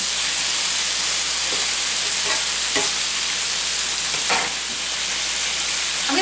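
Chopped chicken frying in a pan, a constant loud sizzle and hiss with a few brief scraping stirs, close by and without talk.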